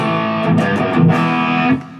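A distorted electric guitar plays a short chord phrase, thick and saturated, with a reverb tail ringing out at the end.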